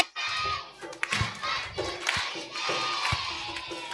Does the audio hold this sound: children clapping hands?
yes